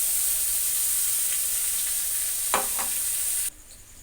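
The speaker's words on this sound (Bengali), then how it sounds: "তা ভালো করে ভেজে নিয়ে এবারে এই যে বেটে রাখা মশলাটাও দিয়ে দিচ্ছি" A ground spice paste frying with garlic and onion for bhuna khichuri and egg curry, a loud continuous hiss of hot oil with a couple of sharp spatter bursts near the end before the sizzle drops away.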